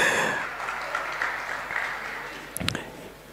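Warm applause from an event audience for a DJ, a steady wash of clapping that fades over a few seconds, with a brief louder burst near the end.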